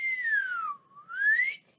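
A voice imitates a slide whistle with a clear whistled pitch that glides smoothly down, then sweeps back up, alone and moderately loud.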